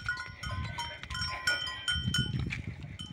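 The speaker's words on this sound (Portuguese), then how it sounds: "Ó, as ovelhas aqui," Sheep bleating on a small farm plot, several nearby calls overlapping with bright ringing bell-like tones, no talk.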